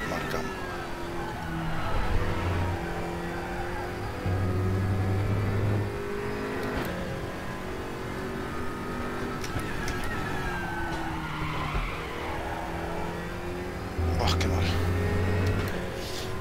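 Race car engine drones and shifts pitch in RaceRoom, with steady harmonic tones that step up and down as it brakes and accelerates, heard under someone talking throughout.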